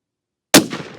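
One loud .308 Win shot from a CVA Cascade XT rifle loaded with Federal Fusion 180 grain ammunition, an abrupt sharp crack after silence followed by a short rolling echo.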